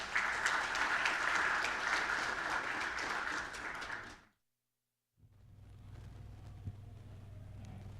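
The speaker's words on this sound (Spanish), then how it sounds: "Recibimos a Dr. Miller con un fuerte aplauso," An audience at an international extractive metallurgy meeting applauds to welcome a lecturer, a dense burst of clapping lasting about four seconds before cutting to silence and then a low hum of room noise.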